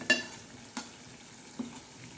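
Fish curry masala stirred in a pan, a faint low sizzle with three soft, evenly spaced scrapes of the spoon against the pan.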